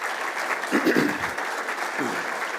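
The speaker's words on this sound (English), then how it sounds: "let's give them a round of applause" An awards-ceremony audience gives a round of applause, a steady wash of many hands clapping at moderate volume, with a brief voice or two surfacing in the middle.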